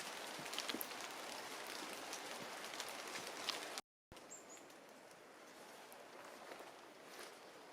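Steady rain patters in a misty mountain forest in Corsica, a dense hiss of drops on foliage and ground with faint bird calls, briefly cut to silence midway.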